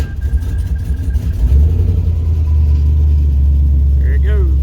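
A 1992 Chevy truck with a swapped 5.3 engine cranks, then fires up and settles into a steady, deep idle, close and loud, with a brief squeal near the end.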